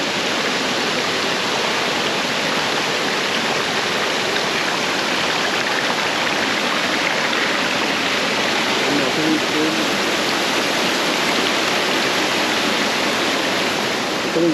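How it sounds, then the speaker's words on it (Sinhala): River water in a stream at Orsigna, Italy, pours and falls in a steady, loud, continuous rush that fills the whole stretch without letting up. "එතනින් වතුර පාර වැටෙනවා"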